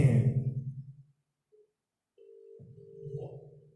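An outgoing phone call on a live celebrity talk show connects with a short tone, then after a pause a low steady ringback tone sounds, thin and telephone-like, with no speech.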